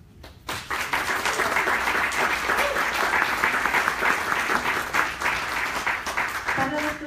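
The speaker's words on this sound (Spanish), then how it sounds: "damos un gran aplauso" Sustained applause from a conference audience at the close of a talk on safe and sustainable urban mobility in Costa Rica, a dense steady clapping that swells after half a second and carries on loudly throughout.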